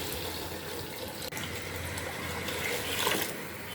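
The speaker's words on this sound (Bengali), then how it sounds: "এখন আমি চালের দামন পানি দিয়ে দেব" Hot water poured steadily into a pot of fried rice for khichuri, a continuous near splashing gush that swells briefly toward the end, with no talk.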